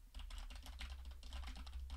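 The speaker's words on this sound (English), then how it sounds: "So I'm randomly like typing, playing video games. Can you hear that?" Hard typing on a computer keyboard, picked up by a FIFINE AmpliTank Tank 3 microphone: a rapid, irregular stream of sharp clacking keystrokes, close and fairly quiet, with no speech.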